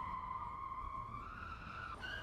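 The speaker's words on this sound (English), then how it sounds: "He just drove down two blocks, swerving, came to a crash." A car swerves and skids, a sustained tire squeal wavering in pitch at a distance, faint and held for about two seconds, with no crash audible.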